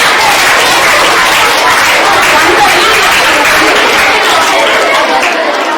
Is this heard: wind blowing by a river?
no